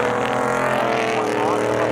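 Race cars, including the number 88 Camaro, roar past on an oval track at a thrill show, a loud, continuous, heavy engine drone filling the whole moment with no break.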